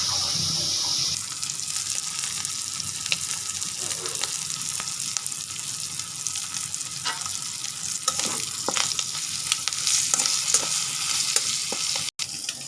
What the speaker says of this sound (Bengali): চিংড়ি মাছগুলি লাল করে ভেজে নেব লবণ দিয়া।